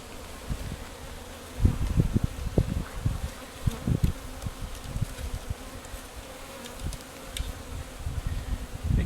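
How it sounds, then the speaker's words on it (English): Honey bees buzz close up in a dense swarm, a constant hum with bursts of louder wingbeats as individual bees pass near, while a bee package is installed into a hive. "take all those bees and put it into that hive"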